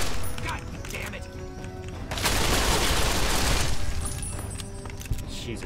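Gunfire in the video game Fallout 3, a sustained burst of rapid shots with crashing impacts under a voice, louder in the middle and trailing off with a final sharp hit.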